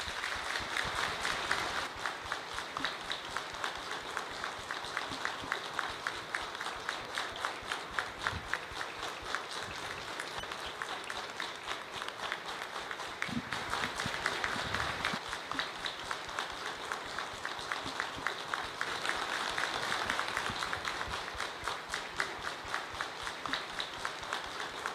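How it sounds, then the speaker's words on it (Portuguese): Members of a Masonic lodge audience give a sustained minute-long round of applause at an installation ceremony, a continuous even patter of many hands clapping throughout, moderately distant. "eu vou pedir um minuto de salva de palmas"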